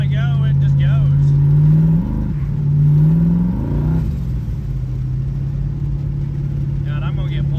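A Ford Fairmont car's engine revs up hard while driving, a deep throaty rumble climbing in pitch in two surges before settling into a steady drone, with a voice talking over it.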